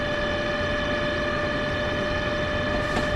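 Passenger train running in Train Sim World, a City Sprinter unit: a steady, loud rumbling drone with constant tonal hum throughout, no voices.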